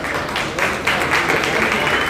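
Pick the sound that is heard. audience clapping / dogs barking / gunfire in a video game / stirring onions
audience clapping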